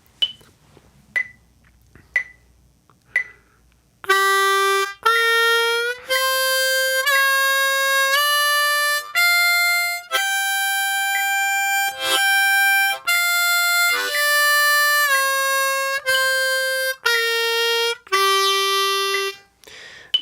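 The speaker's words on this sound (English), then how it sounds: "I'm going to start at 60 BPM and I'm going to play the blues scale note for note" A harmonica plays the blues scale one sustained note at a time at 60 BPM, each note landing on a steady metronome click; four clicks count in alone before the clear, close notes begin.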